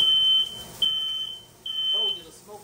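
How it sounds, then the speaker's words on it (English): A piercing smoke alarm set off by cooking jerk chicken in a kitchen sounds in three long, shrill beeps with short gaps, loud and close, with faint indistinct voices underneath. "Told you the smoke alarm going off."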